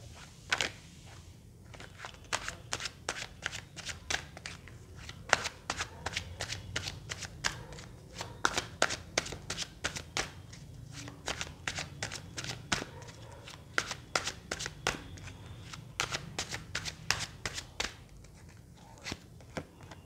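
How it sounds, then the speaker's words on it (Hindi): Tarot cards are shuffled by hand close up, giving a quiet stream of crisp riffling snaps and flicks in an irregular rhythm that continues steadily throughout. "जब तक मैं कार्ड शफल कर रही हूँ"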